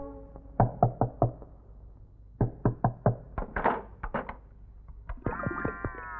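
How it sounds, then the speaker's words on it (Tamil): Knuckles rapping on a closed door in clustered series of sharp, hollow knocks, pausing and resuming several times, close and fairly loud. "எவ்வளவு நேரம் தட்டிக்கிட்டு இருக்கேன்,"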